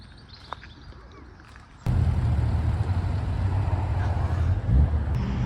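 A white Toyota Chaser passes close by with a loud, steady engine and road rumble that rises abruptly and holds, swelling briefly near the end.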